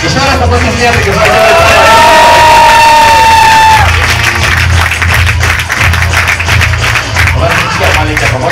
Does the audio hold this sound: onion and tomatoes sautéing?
no